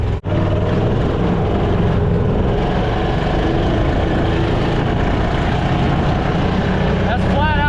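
A Kawasaki Mule utility vehicle runs in gear, its engine a loud, constant drone close by, outdoors.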